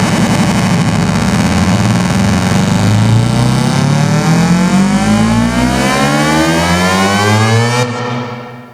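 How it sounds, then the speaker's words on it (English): A Virus TI synthesizer plays an uplifter with a little FM modulation, a loud, dense, buzzing tone sweeping steadily upward in pitch for about eight seconds before cutting off abruptly. "This is how it sounds when there's just a little bit of FM modulation going on."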